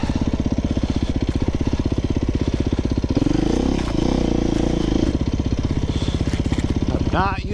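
A Beta 390 RR-S dual sport motorcycle runs on trails with a loud, close, steady engine thrum that swells in the middle and then settles again.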